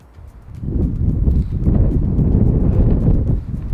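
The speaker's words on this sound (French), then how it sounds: "Il y a trop de vent, j'essaye de l'abriter." Strong wind buffets the microphone in a steady low rumble, building after the first half second and staying loud throughout, with faint thuds underneath.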